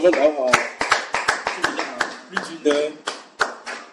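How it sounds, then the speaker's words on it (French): A small group claps to welcome a guest at a church gathering, giving distinct, separate hand claps in an uneven rhythm while voices speak over them. "Vous avez cet applaudissement maintenant, c'est pour l'accueillir."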